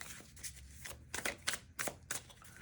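Tarot cards being shuffled by hand, a few quick papery riffles and flicks close up, quiet and isolated with no talking.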